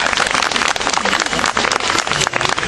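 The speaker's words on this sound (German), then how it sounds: "Begrüßt sie euch mit dem dicken Applaus" An audience gives a loud, dense round of applause at a live show featuring a raven, with continuous close clapping throughout.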